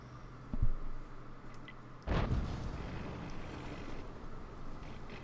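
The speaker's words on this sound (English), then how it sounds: "the WZ is just eating shot after shot from those tank destroyers" Tank destroyer gunfire striking a WZ tank in World of Tanks, a faint thud followed by one heavier distant boom and a fading rumble.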